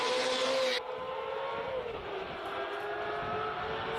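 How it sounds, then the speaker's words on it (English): A Ferrari V8 race car climbs a hill-climb course through Cape Town streets, its engine loud at first and then dropping into a sustained, echoing drone as it pulls away. "Number V8 comes through. Glorious sound of a Ferrari."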